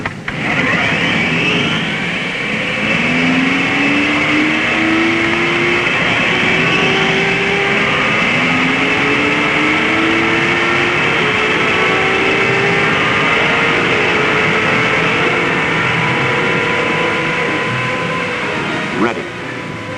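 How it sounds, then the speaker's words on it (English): Engines of 1958 Indianapolis 500 race cars at the Speedway fire up and idle together, a steady dense roar with rising motor whines, continuous and loud throughout. "Gentlemen, start your engines."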